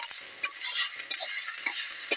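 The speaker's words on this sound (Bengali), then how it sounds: "হলুদ 2 চামচ, লঙ্কার গুঁড়ো 2 চামচ দিয়ে ভালোভাবে নেড়ে নেবে" A spoon stirs turmeric and chilli powder through hot oil in a pan, making short scraping strokes over a gentle sizzle, near and brief, with no speech.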